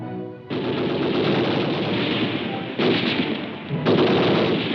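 Tank-mounted 30- and 50-caliber machine guns on a 1957 US Army armor team fire in long sustained bursts, a loud rattling roar that breaks off briefly and resumes twice, with no voices.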